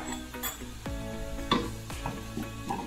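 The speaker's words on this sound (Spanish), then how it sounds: "Voy a subir un poco más el fuego para sofreír a un poquito a fuego alto." Something sautéing with ground black pepper in a pan over high heat, a steady sizzle with scattered scrapes and clinks of stirring, moderately quiet and close, with no talking.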